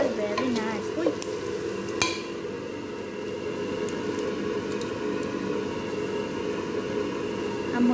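Fried potato being stirred in a pan for a hamburger dish, with a steady close sizzle and scraping throughout and a sharp clatter about two seconds in.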